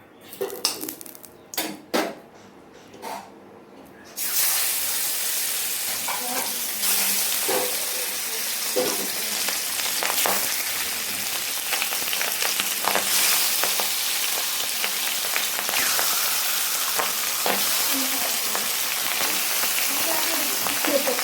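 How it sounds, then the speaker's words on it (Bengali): Oil hisses and crackles loudly and steadily as boal (wallago catfish) fries in a little oil in a wok, after a few seconds of metallic clinks and clatter at the start. "বোয়াল মাছ খুব ফোটে কড়াইতে বেশি তেল দেওয়া যাবে না"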